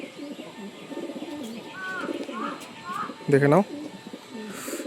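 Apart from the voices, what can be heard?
pigeons cooing and fluttering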